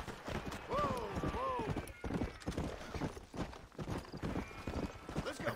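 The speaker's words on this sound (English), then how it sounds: "Aquele cavalo, né?" Horse hooves clip-clop at a steady walking rhythm in the Western video game Red Dead Redemption, with a couple of whinnies early on and a voice talking over the hoofbeats.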